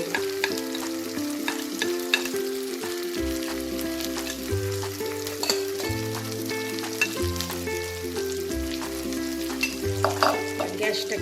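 Kolkata restaurant-style chicken chaap frying in a pan with its leftover marinade poured in, giving a loud, steady, close sizzle throughout, with background music playing underneath and no talking.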